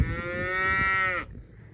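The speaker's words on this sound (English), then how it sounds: "Look at all the cows." A single loud, close cow moo on a farm, a sustained tonal bellow lasting just over a second before cutting off, with no talking.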